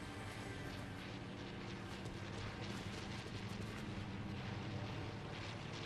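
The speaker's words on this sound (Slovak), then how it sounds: "Joj, zasa lietadlo." Airplane engine roar in the Fortnite video game, a steady, loud, broadband drone that fills the whole stretch without letup, with no talk over it.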